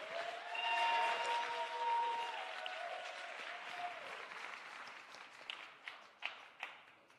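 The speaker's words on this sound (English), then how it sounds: "Big round of applause for Gerald Lucas." A seminar audience applauds real estate investment speaker Gerald Lucas, the steady round of clapping starting full and gradually thinning out, with a few last scattered claps.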